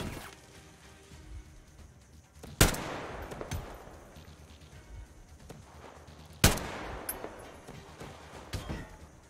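Gunfire in the video game Metro Exodus: two sharp, loud shots about four seconds apart, each trailing into a reverberant decay over a murky ambient bed.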